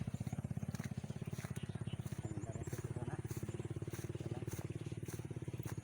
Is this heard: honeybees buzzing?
no